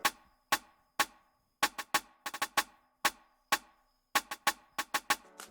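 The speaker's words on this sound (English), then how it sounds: "It's a snare," Snare drum sample programmed in FL Studio for an Afrobeat groove, sounding as a string of sharp, dry hits in an uneven pattern, some doubled or flammed, alone with no voices.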